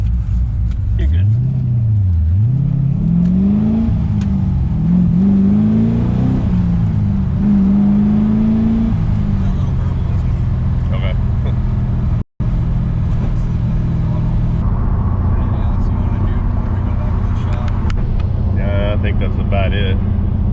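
An LS-swapped 1992 Mazda RX7 FD running a Holley Terminator X, idling low then revved several times with rising and falling pitch before settling back to a steady rumbling idle, loud and close, with a short dropout near the middle.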